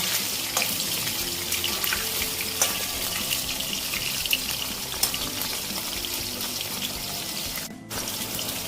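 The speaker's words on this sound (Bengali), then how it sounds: "চিকেনগুলো দেখো লাল লাল করে ভাজা হয়ে গেছে" Lightly coated chicken pieces for dry chilli chicken fry in hot oil, giving a steady, dense crackling hiss with small pops throughout and a brief dip near the end, with no voices.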